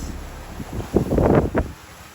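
Wind buffets a microphone aboard a sailboat at sea in about 15 knots, a rough low rumble that swells in the middle and then eases, with no talk.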